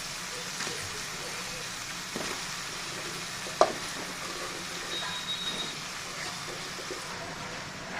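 Cauliflower sautés with ginger-garlic paste in a pan, giving a soft, continuous sizzle with faint stirring scrapes and one brief clink partway through.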